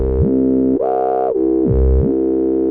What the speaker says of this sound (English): It's called Twin Peaks, and I'm pretty sure it's just 2 bandpass filters.